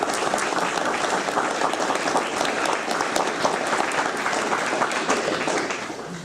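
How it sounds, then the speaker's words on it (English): Dense audience applause thanking panelists at a community teach-in, a steady wall of many hands clapping that tapers slightly at the very end. "Let's do a last round of applause, thanking them for their"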